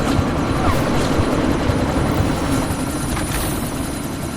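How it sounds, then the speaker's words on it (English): Helicopter in the video game Deus Ex Mankind Divided during a sandstorm, a loud steady rotor and engine drone that fills the scene continuously with no speech. "you need to disable that chopper"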